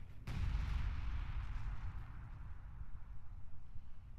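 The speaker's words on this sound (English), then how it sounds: "British artillery going into the middle." A British artillery piece fires in a WWII strategy video game, one sharp blast followed by a long, rumbling decay that fades slowly with no talk.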